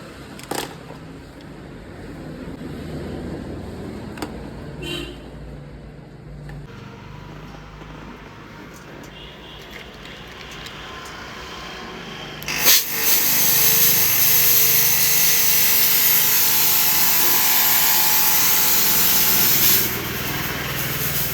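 A Robo fog machine switched on, its steady loud hissing spray starting abruptly partway through and running continuously until it cuts near the end, after quieter clicks and handling noises.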